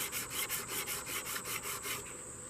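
Wood being sanded flat by hand with 120 grit sandpaper, a quick, even back-and-forth rasping in about a dozen rhythmic strokes, close but fairly quiet.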